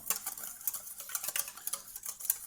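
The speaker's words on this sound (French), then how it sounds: "Ensuite, donc, vous mélangez délicatement." Whisk or spoon gently stirring egg yolk, mustard, salt and white pepper in a bowl as mayonnaise preparation begins, giving quick, light scraping and ticking strokes at close range, steady and uninterrupted, with no talk.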